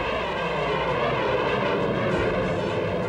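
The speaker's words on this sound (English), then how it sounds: "some of the world's best pilots roar through the skies" Military airplanes at Edwards Air Force Base roaring loudly overhead, a continuous, dense engine rumble that holds steady throughout with no pauses or voices.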